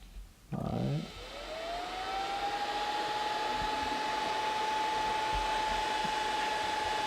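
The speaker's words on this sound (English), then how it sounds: "The fans are really loud." Cooling fans on a homemade dual variable-voltage lab bench power supply, wired to a 12-volt socket, spin up after a click into a loud, steady whirring drone with a sustained high tone.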